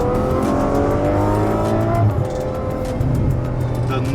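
A Ferrari F12 Berlinetta's 6.3-liter V12 with a 7-speed dual-clutch gearbox revs loudly and continuously, its pitch climbing in strong harmonic sweeps, then settling into a deep, sustained roar.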